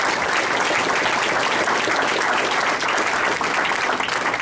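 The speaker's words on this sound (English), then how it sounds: "you give them a round of applause" Loud, dense applause from a banquet audience at a youth ministry event, honoring students; steady, sustained clapping throughout with no voices.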